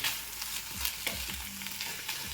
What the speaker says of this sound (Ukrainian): Зараз швиденько обжаримо фасольку.